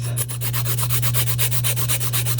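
A nail file rasps back and forth across a cast resin elephant ornament in quick, even strokes, close up over a steady low hum, with no voices.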